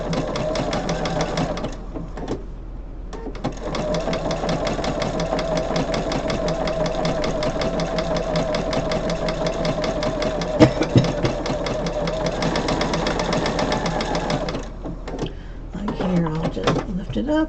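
A sewing machine stitches back and forth in a steady, close run for most of the clip, pausing briefly near the start and again at the end, with a voice talking over it.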